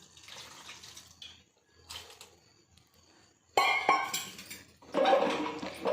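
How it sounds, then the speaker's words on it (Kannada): Water poured in a few short splashing bursts into a cooking pot holding ridge gourd, salt, coriander and coconut, with quieter clinks and handling between the pours. "ಇದು ಬೇಯೋಕ್ಕೆ ಎಷ್ಟು ಬೇಕಷ್ಟು ಸ್ವಲ್ಪ ನೀರು."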